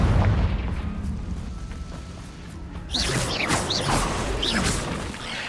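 Confringo spell in the video game Hogwarts Legacy: heavy booming blasts and rumble at the start, then whooshing fiery bursts with rising whistles and crackle, loud throughout.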